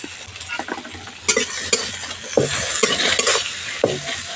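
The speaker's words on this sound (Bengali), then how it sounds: "পেঁয়াজটা হালকা করে ভেজে নেব" Chopped onions frying in hot oil after a tempering of slit green chillies, a steady close sizzle with a spoon scraping and stirring through the pan at intervals, no talk.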